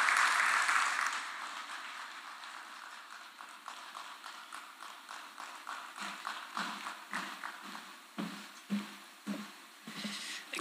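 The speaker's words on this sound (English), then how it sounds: "A warm applause." Audience applause welcoming Kenya's Deputy President at the 18th COMESA Business Forum, loudest at the start, then thinning into scattered, individual claps that grow sharper and more distinct toward the end.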